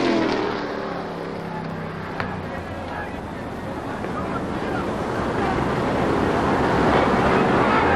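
Race cars roar around the Oswego Speedway oval as a sustained, broad engine drone that builds slowly, with wind buffeting the microphone.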